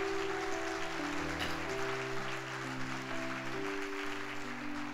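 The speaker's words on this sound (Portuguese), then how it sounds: "Quem recebe aí, dá um aplauso ao Senhor." Congregation applause at a Sunday church service, a steady wash of clapping with a sustained organ or keyboard chord underneath, continuous and fairly even.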